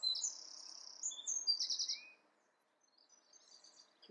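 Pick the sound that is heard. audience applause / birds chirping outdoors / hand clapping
birds chirping outdoors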